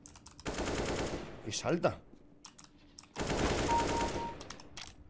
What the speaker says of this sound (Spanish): ¡Me dispara mi colega!